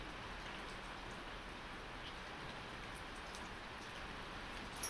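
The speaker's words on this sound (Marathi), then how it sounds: "कारण पाऊस पडतोय" A soft, even hiss of steady rainfall, faint and constant, with no voices over it.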